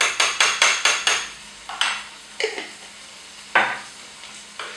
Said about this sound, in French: On va mélanger tout ceci avec la moutarde et notre sauce d'oignon.